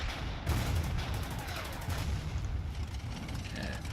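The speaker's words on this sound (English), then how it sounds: "Hit this position with some artillery" Artillery fire in the World War II strategy game Order of Battle: Blitzkrieg, Fall Weiss campaign: a dense, continuous rumble of distant booms and gunfire rolling on for several seconds at moderate loudness, with no talk.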